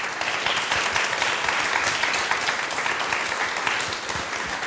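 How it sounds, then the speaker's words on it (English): A conference audience gives a full round of applause for a panel on sustainable cities and waste, a thick continuous patter of clapping that holds steady and tapers slightly at the end. "If you'd please raise your applause for my lovely panellists here."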